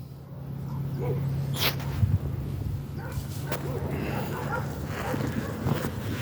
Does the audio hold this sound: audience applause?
no